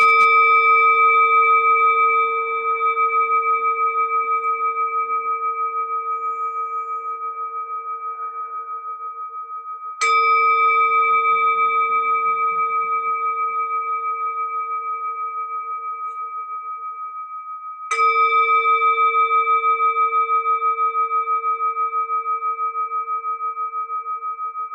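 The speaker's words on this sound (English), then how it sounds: "let's listen to the bells." A meditation bell is struck three times, each clear ringing tone sustaining and slowly fading before the next strike, bright and close in an otherwise quiet room.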